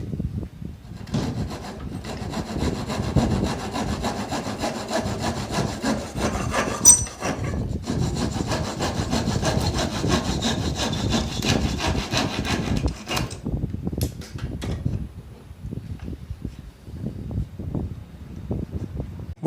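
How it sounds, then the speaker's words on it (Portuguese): Steady back-and-forth strokes of a hand saw rasp through wood, close and rhythmic, with a brief pause midway. "eu passei o serrote aqui"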